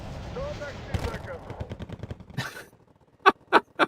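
Rapid machine gun bursts in Wargame Red Dragon, a busy rattle of repeated reports followed by a few loud, distinct shots, with a voice talking over the gunfire.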